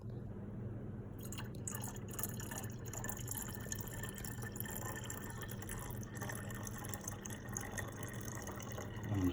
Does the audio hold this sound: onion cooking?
no